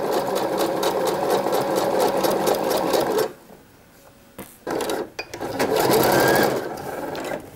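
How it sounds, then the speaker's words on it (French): A sewing machine stitches a curved seam on swimwear, a loud rapid mechanical whir in two bursts separated by a short pause with faint handling noises, and no talking. "Donc essayez de coudre régulièrement et de faire une belle courbe."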